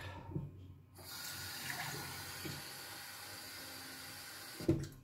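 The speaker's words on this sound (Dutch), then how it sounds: "Dan vult je die met water." Running tap water pours steadily into a glass for several seconds, close and moderately loud, then cuts off with a brief clunk.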